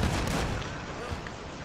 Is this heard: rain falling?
no